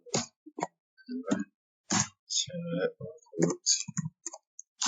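Clicky keystrokes on a computer keyboard, entering a server address for an SSH connection, sound in quick irregular bursts with short pauses between groups, close and fairly quiet.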